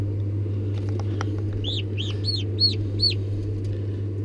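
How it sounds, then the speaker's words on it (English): Turkey chicks that have just hatched peep in a brooder, sending out a short run of high chirps in the middle over a steady low hum and soft background noise. "These are turkey chicks."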